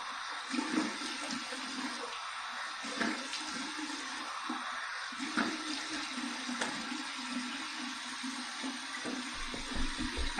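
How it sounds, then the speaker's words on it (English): Cold water runs from a tap while a razor is rinsed under it, a continuous splashing gush with small shifts and spatters as the blade moves through the stream. "here's my cold water rinse"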